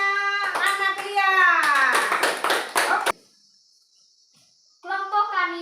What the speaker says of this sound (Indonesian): tepuk tangan untuk kelompoknya anak Lia